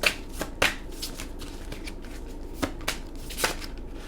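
Tarot cards are shuffled close by in soft riffling bursts, with a few sharper snaps, and no talking is heard.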